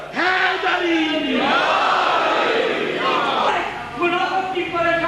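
Large mourning gathering at a Shia majlis loudly chanting the slogan Nara-e-Haidari in unison, with rising, sustained voiced calls in waves, close and powerful, one call overlapping the next.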